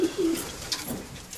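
A pigeon coos softly nearby, low rounded calls over faint background noise.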